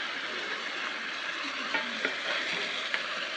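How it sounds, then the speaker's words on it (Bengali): Pabda fish sizzling steadily in hot oil in a curry cooker pan, a dense, even frying hiss with a few soft crackles and pops, close and continuous, no voices. "এখন আমি দিয়ে দিচ্ছি আমার পাবদা মাছগুলা"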